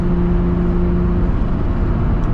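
A turbocharged, tuned Nissan R33 Skyline engine roars at high revs, a loud, sustained, rough drone with a steady whine over it across the whole short stretch.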